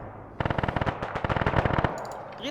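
Rapid bursts of video game machine-gun fire rattle loud and close for about a second and a half, each burst a tight string of sharp shots, with quiet game ambience before and after.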